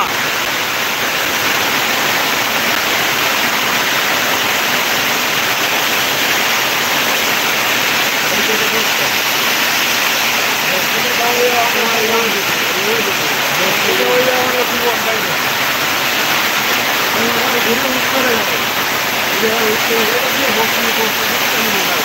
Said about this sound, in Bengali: কড়া বৃষ্টি নামছে কড়া